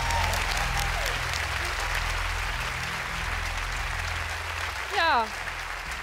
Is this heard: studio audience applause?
yes